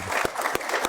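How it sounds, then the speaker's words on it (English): Audience applause at a business launch event in Windhoek, a dense burst of many hands clapping with a few sharper, louder claps standing out over a brief second. "I think that deserves a big round of applause"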